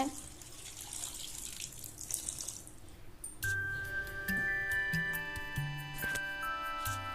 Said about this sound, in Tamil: இன்றைக்கி நான் 2 கிளாஸ் தண்ணி ஊற்றிக்கிறேன்